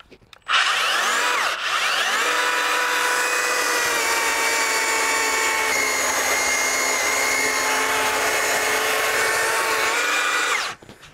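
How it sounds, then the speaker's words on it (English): A belt sander runs steadily across weathered deck boards, a loud, continuous whining drone that starts abruptly, holds an even pitch for about ten seconds, then cuts off, with no talking. "So I could actually start the belt sander right here."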